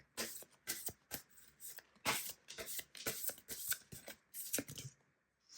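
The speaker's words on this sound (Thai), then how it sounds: "ขออนุญาตเปิดไพ่รูนอีกหนึ่งใบ" Rune cards handled and turned over during a fortune-telling reading, a busy run of quick crisp shuffling and flicking snaps close by, with no voice, then a short pause near the end.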